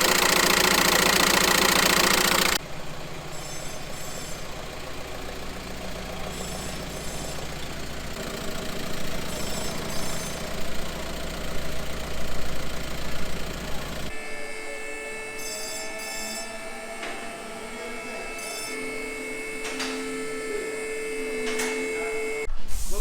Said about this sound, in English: it sounds awful